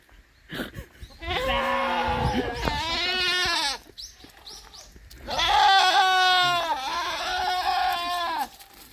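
Goats bleat loudly and close by in drawn-out, wavering cries, two long calls separated by a brief pause, with faint sounds in between.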